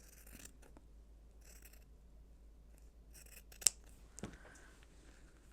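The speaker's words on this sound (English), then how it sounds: "just cut a little strip." Scissors cut a small strip of quilt batting: a few quiet snips and a sharper close cut in a hushed room.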